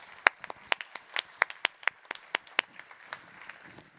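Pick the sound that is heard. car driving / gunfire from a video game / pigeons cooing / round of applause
round of applause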